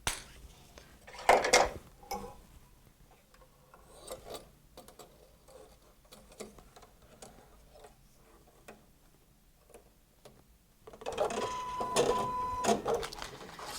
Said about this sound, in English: So I'm going to go ahead and let it stitch the placement line for the banner.